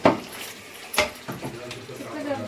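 Coriander and mint being stirred into a pot of cooking food, with a spoon scraping and clinking against the metal in a few irregular strokes over a low simmering sizzle, close and moderately loud.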